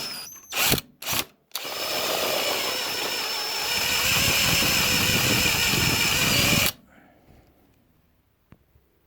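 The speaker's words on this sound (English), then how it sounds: "now this will drill much easier" A loud power drill whines steadily for several seconds after a few short bursts, boring through a knife handle, then stops, leaving a quiet room with faint clicks.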